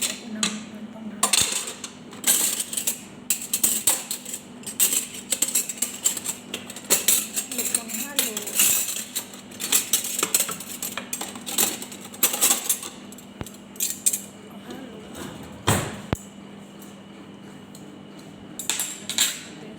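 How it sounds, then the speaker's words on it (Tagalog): Salad being tossed with serving utensils, a steady run of light clinks and scrapes against a bowl, some louder clatter, with no talking. "Tapos ihalo ko na po yung salad."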